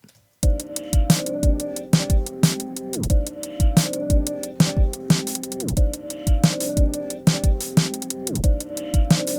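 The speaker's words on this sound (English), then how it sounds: "it's letting through that snare drum now" A punchy drum groove with kick and a tightly gated snare cutting off sharply, with bass and steady rhythm underneath, loud and close.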